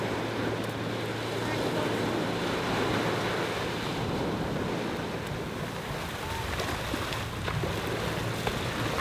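Big ocean waves surge at Bias Tugel beach in east Bali, a steady loud wash of surf with wind buffeting the microphone throughout.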